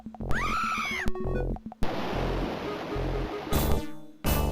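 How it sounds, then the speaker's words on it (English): A waterfall in the video game Amazon: Guardians of Eden gives a steady, rushing broadband wash for a couple of seconds, set between brief tonal game sound effects and other short bursts. "look at this nice little waterfall we found"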